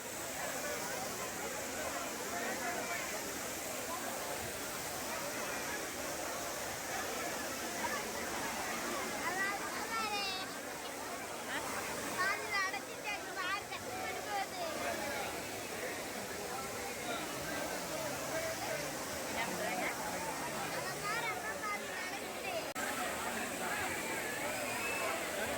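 Kutralam waterfall in Tenkasi, a steady broad rush of falling water filling the whole stretch, with a crowd of bathers chattering and shouting over it.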